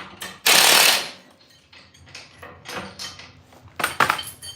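Ratchet wrench torquing front axle bolts during off-road vehicle prep, heard as bursts of clicking and metallic mechanism noise, loudest early on, with scattered clanks and shuffling afterward.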